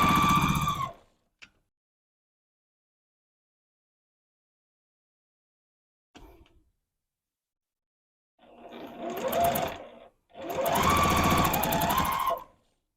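A sewing machine chain piecing quilt pieces runs in short bursts, a whirring mechanical stitching that starts and stops with long silent gaps between runs and a final longer burst near the end.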